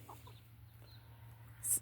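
Egg-laying hens, including an Orpington and an Ameraucana, returning to their henhouse at dusk give quiet, scattered clucks over a steady low background hum, ending with one sharper, louder squawk close by.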